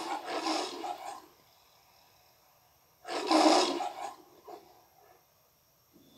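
A lion gives two deep, rumbling roars in the Metro-Goldwyn-Mayer film logo, the second louder and fuller, separated by near silence, then a fainter trailing grunt.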